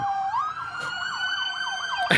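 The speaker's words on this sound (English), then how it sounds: "You can hear the sirens." Police car sirens wail through a street scene, a rising and falling electronic tone that sweeps up and down repeatedly, loud and close, with no talk over it.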